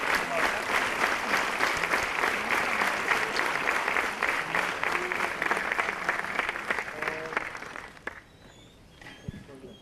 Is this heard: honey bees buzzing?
no